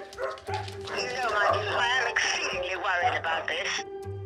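Several dogs in a home crowded with more than a hundred of them yip, bark and whimper close by, overlapping and continuous, with someone talking over them.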